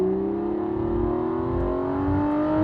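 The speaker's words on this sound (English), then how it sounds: "we're going to give it a little bit of juice because this car just sounds like nothing else." Aston Martin Vanquish Zagato Shooting Brake engine revving during a drive, a steady rising drone that climbs gradually in pitch, fairly loud and continuous with no talking.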